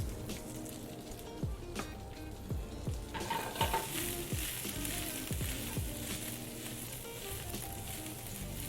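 Purple and green Brussels sprouts sauté in a pan with salt and pepper. A constant sizzle runs under a series of distinct scraping stir strokes that grow busier midway, and no one speaks.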